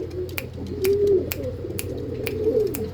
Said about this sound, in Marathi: एकदम सुपर क्वालिटीचे कबूतर आहे.